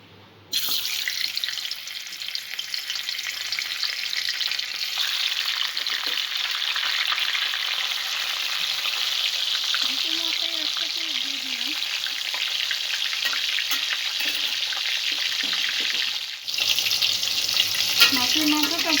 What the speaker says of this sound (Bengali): মাছের মাথাটা প্রথমে আমি ভেজে নেব।